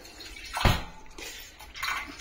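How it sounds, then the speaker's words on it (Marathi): Water splashes into a pan for making a finger millet (nachni) modak dough, a short pour with one sharp splash followed by softer trickles. "हे मी पाणी घातलेलं आहे"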